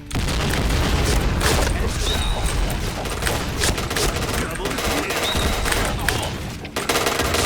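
Gunfire and explosions in the online shooter Point Blank: loud, nearly continuous bursts of rapid automatic shots with booming blasts and mechanical clicks, sustained for the whole stretch.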